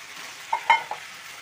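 Chopped tomatoes hit a hot frying pan with a soft, steady sizzle and a few light clinks of stirring, brief and fairly quiet.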